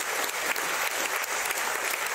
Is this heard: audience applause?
yes